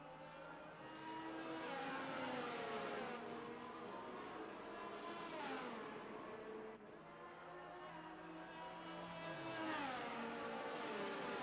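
Race cars in an F1 video game crawling behind the safety car at the Italy round, their engines blending into a loud, continuous whine that rises and falls in pitch as the field bunches up, with no talk.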